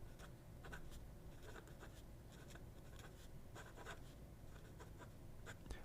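A fountain pen nib writes in reverse on paper, giving a faint, dry scratching that comes in short irregular strokes over a quiet background.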